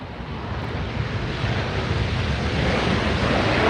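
A Swiss Air jet landing at LAX with thrust reversers deployed gives a loud, continuous broadband roar that swells slightly as it goes on, with no talk over it.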